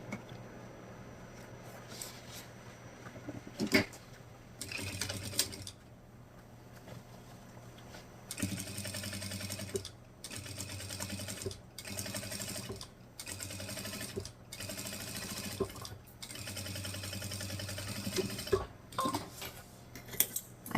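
A sewing machine sews a straight seam on fabric in repeated bursts of rapid stitching, a quiet close mechanical chatter separated by short pauses and small clicks.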